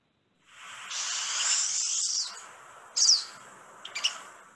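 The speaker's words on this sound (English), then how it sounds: "they have a really fun call that I think sounds like a zipper" A small Santa Fe backyard bird gives its zipper-like call, a long buzzy rising rasp followed by a few short sharp chirps, fairly faint against quiet outdoor hiss.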